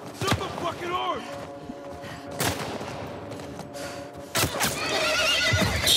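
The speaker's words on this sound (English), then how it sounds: "Shoot the horse! Shoot the fucking horse!" A horse neighs and whinnies in The Last of Us Part 1 amid sharp bursts of gunfire and some hoof clatter, with voices in the mix.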